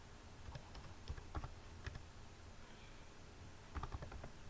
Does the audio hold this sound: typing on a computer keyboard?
yes